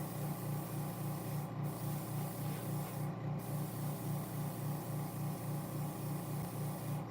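Steady hiss of spray paint being applied to model car parts, the front seats of a Ferrari model kit, a continuous close broadband spray running throughout with no talk.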